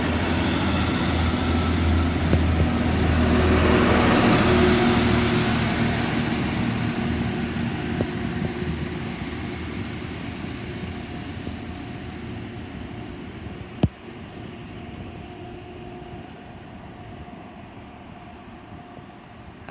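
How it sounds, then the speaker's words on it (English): Train 950-001 pulls out of Severn Tunnel Junction station with a broad rumbling roar that swells over the first few seconds and then slowly fades as it leaves. A single sharp clank sounds near the end. "Departing now is 950-001"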